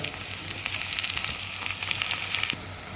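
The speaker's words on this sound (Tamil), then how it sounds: "கொஞ்சம் வதங்கட்டும். அடுத்து வெண்டைக்காய் கொஞ்சம் சேர்க்குறோம்." Okra sautéing in a pan for sambar, a brief steady close sizzle with faint crackle and light stirring, no voices.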